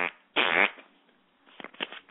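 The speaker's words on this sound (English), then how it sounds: "occasionally you got to break wind" A loud, sustained fart blast, followed after a short gap by a few quieter sputtering bursts. It is heard alone, with no talk over it.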